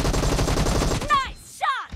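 Gunfire in PUBG Mobile, a rapid run of loud automatic shots followed by two sharp separate reports with ringing tails, close and punchy, with a voice briefly heard.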